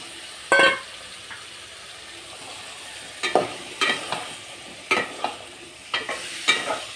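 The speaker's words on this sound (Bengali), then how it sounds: "পটল আলুটা দিয়ে কষিয়ে নিব।" Pointed gourd and potato pieces being stir-fried in spices, a soft continuous sizzle punctuated by repeated spatula scrapes and knocks against the pan, close and with no talking.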